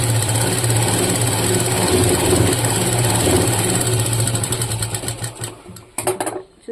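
A sewing machine runs steadily while stitching fabric for a garment front piece, its loud motor whir and rapid needle chatter continuous before slowing and stopping in short bursts near the end.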